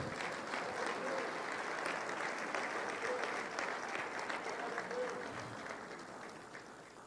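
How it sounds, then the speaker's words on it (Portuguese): A congregation applauds in a Portuguese-speaking church, a steady, moderately faint roar of many hands clapping that tapers off slightly near the end, with some murmuring voices mixed in. "Aplauda o nome do Senhor."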